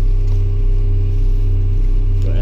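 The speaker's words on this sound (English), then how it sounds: "It's a diesel machine, which means you gotta give it like a few minutes to a few seconds to get ready. Turn hole, it's on." A Caterpillar D5 dozer's diesel engine runs close by, producing a loud, steady low rumble that holds constant throughout.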